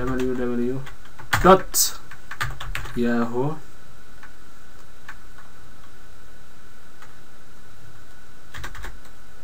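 Computer keyboard typed on while creating an email account, with a few scattered keystroke clicks and a short burst of taps. Someone talks over the first few seconds, then sparse key presses continue quietly alone.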